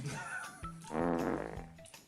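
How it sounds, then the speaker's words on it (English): A low, rumbling fart comes through a speakerphone call, faint and slightly muffled, stretching over a couple of seconds amid background noise. "Stop farting"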